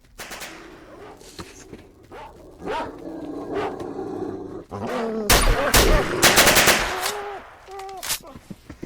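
Dogs bark and snarl in the Stalker video game while bursts of automatic gunfire crack loudly, the shots clustering into rapid volleys in the later half and the barks scattered throughout.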